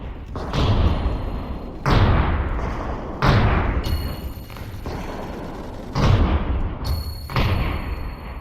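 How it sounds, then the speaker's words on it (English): Explosions in the VRChat Super Tower Defense game, five heavy booming thuds at irregular intervals, each with a rumbling decay and ringing high overtones, loud and close. "That's a cool explosion noise."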